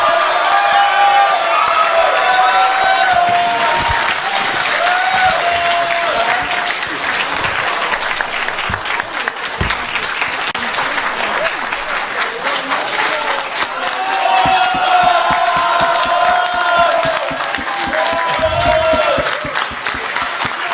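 A large audience applauds loudly and steadily for a speaker at a political event, with scattered cheers and whoops rising through the dense, continuous clapping.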